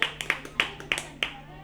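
Children clap in a classroom language lesson, a string of scattered, uneven claps spaced apart and at moderate distance, with faint voices around them.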